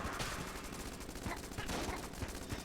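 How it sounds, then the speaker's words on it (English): Pulse cannon fire in the video game Enter the Gungeon, a dense, loud and continuous stream of rapid blasts with a few stronger thumps, heard over busy game noise. "That's a pulse cannon. It sounds exactly like the blooper."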